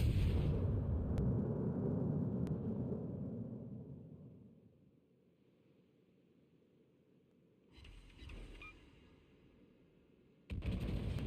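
Naval gunfire against an enemy warship in a warship video game: a heavy rumbling boom fades into near silence, then two more sharp blasts hit, the last loud and abrupt.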